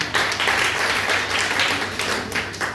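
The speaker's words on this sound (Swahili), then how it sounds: "wapigie makofi mazuri sana" A church congregation standing in prayer claps warmly together, a dense, steady wash of many hands sustained at close, even loudness throughout.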